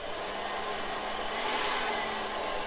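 A hair dryer on its cool, no-heat setting blows over poured paint, a steady close whooshing roar with a faint motor whine that holds level throughout, without talking.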